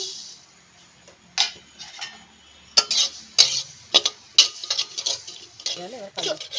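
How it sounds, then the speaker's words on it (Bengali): Mustard seeds frying in a pan for sweet mango pickle, with sharp crackling pops and quick clicks of a utensil stirring, irregular bursts close by over a faint hiss and no talk. "জিরা ভাজা হয়ে গেছে, এবার আমি সরষে দিচ্ছি।"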